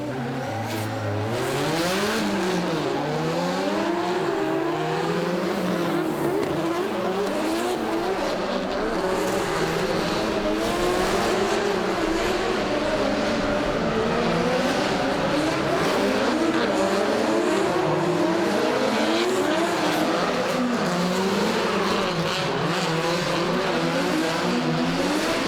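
Drift cars battle at a stadium round in Auckland, an RB engine against an SR engine, revving and bouncing off the limiter with loud, continuous wavering engine notes and tire squeal throughout.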